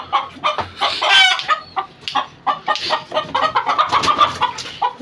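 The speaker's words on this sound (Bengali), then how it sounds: "দেখেন মোরগটা মানে খুব ছটফটে টাইপের একটা মোরগ" A large, restless rooster clucks loudly and repeatedly at close range, giving a busy run of short calls with a brief crow-like note partway through.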